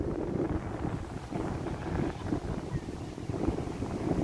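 Wind buffeting an unprotected microphone on a hillside above Playa Rincon, a constant low rumbling roar that fills the whole stretch without pause.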